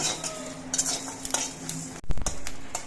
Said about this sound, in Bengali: একটা শুকনো লঙ্কা অল্প করে একটু পাঁচ ফোড়ন আর অল্প একটু মৌরি ভেজে নিচ্ছি